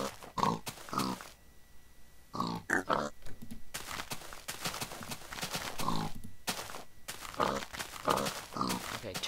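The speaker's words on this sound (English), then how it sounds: "Okay, two more baby pigs." Pigs in the Minecraft video game oink and grunt repeatedly in short, irregular bursts, close and clear, with soft footstep clops in between and no talking.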